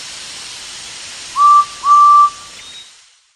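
A steam engine's whistle from a Thomas & Friends storybook sounds two clear, bright toots, the second longer, over a steady background hiss, with no talking.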